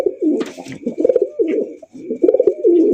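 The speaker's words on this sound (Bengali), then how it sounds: "এত সুন্দর এক জোড়া গোল্লা কবুতর লাগে" A pair of Golla pigeons coos up close in repeated soft, throaty rolling phrases with brief pauses between them. A faint high whine and a few light clicks sit behind the calls.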